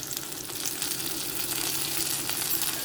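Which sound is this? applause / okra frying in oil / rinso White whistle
okra frying in oil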